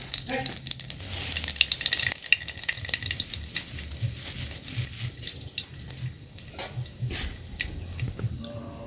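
Cumin and black cumin seeds crackle and pop in hot oil with an uneven, spattering sizzle, and there are light clatters and scrapes of a spoon throughout.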